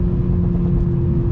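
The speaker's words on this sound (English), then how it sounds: "And you're getting a nice sound out the back. I'm getting some pops. I'm getting some bangs." A 2021 Toyota Supra with its 2.0-litre four-cylinder turbo engine and exhaust holds a steady, loud, close drone with a strong low hum and no break throughout.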